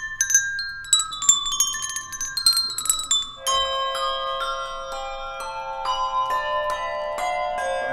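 Church tower bells ring out in changes, clear pitched strikes following each other in quick succession, first with bright higher tones and then deeper tones that sustain and overlap.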